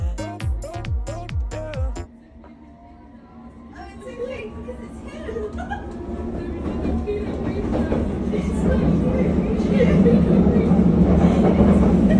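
A London Underground train runs with a steady low rumble that builds and grows louder toward the end, after a brief stretch of voices and music at the start.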